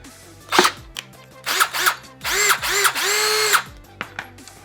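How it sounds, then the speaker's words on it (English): A Bauer 20V Hypermax lithium cordless drill whirs in several short, close bursts of motor whine, ending with a longer sustained run and a few brief blips afterward, with no talking. "let me do some drilling"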